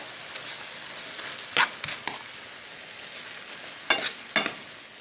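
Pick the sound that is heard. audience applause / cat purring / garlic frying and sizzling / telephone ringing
garlic frying and sizzling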